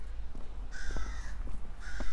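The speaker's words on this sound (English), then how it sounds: "So the old crows in the background." Rooks caw in the background, a few harsh calls in two bursts, fairly distant over a low steady rumble.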